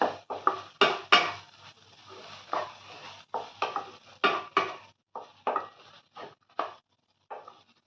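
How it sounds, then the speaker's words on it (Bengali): A spoon stirs egg chow mein with ghee and garam masala in a pan, making close, uneven scrapes and clanks against the metal in short bursts. "ভালো করে মিশিয়ে নেব।"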